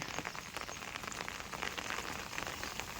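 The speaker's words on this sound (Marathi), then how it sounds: "उन्हात जरा पाऊस" Light rain pattering steadily on a surface during sunshine, the first rain of the season, soft scattered drops with no voices.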